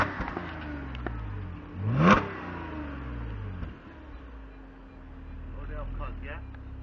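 An Audi S5 Cabriolet revs and accelerates away, its exhaust note sweeping up sharply in one burst before fading, while people talk nearby before and after.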